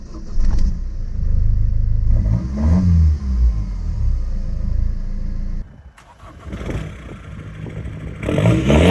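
A Mercedes diesel car engine roars loudly as it revs to about 2000 RPM on the brake and launches in a drag race, dropping off abruptly, then surging again with clattering road noise.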